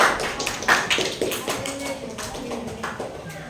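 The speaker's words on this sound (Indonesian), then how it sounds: "Berikan tepuk tangan." Scattered clapping from a crowd in a grade 6 classroom, a loose burst of handclaps with voices mixed in underneath.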